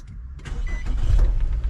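A brother's station wagon being moved under its own power, the engine running low and steady with a rising, rumbling drive-off after a brief quiet start, fairly close.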